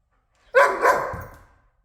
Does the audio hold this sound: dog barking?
yes